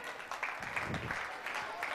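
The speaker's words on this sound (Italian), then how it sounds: "Applauso a Cecilia" Audience applause in a television studio during a football-themed show, a short burst of faint clapping mixed with voices.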